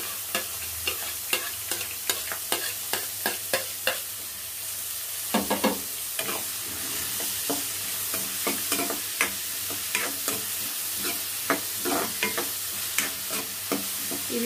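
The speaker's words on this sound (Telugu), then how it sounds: "ఇవి కాస్త గోల్డెన్ బ్రౌన్ కలర్లో వేయదాకా వేయించుకున్నాము." Thinly chopped onions fry in a pot for gongura chicken, a soft continuous sizzle broken by frequent sharp scraping strokes of a spoon stirring them, close up and without any talking.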